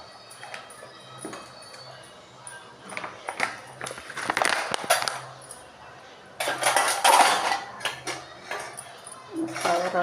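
Dishes being washed by hand, with a spoon and pots clinking and tapping in irregular bursts, fairly close, under intermittent talk.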